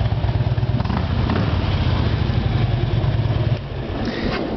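A Harley-Davidson Street Glide with Rinehart dual exhausts idles close by with a loud, deep, lumpy rumble that drops slightly in level near the end.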